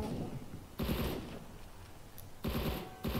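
Bursts of rapid gunfire in an online shooter game, two or three dense volleys separated by short pauses, fairly quiet and muffled with no talking.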